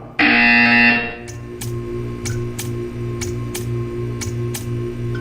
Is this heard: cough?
no